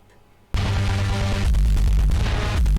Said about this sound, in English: Second bass is basically a synthesizer,